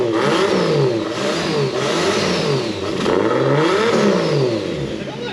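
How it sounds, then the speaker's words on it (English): A Toyota JZX100 drift car engine revs hard several times in a row, each rise and fall of pitch loud and close, with a rough exhaust edge and no talking over it. "Give it a rev again."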